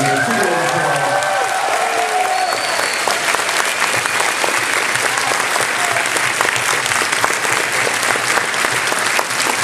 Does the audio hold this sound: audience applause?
yes